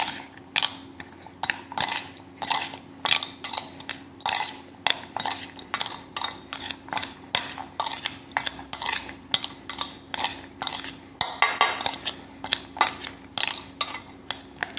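Sweet corn with butter is stirred in a metal pan, a steady series of quick scraping, clinking strokes of a spoon against the pan, close and alone.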